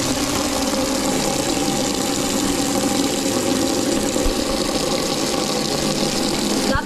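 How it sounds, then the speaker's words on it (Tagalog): Water running steadily into a basin for washing feet, a continuous splashing, gushing flow mixed with a low engine-like hum, constant and close with no pauses. "Maglalagay na rin ako ng tubig"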